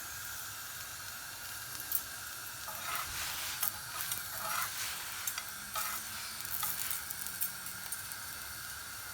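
A potato-filled paratha frying on a hot griddle after being flipped, a steady close sizzle and hiss with brief bursts of louder crackling.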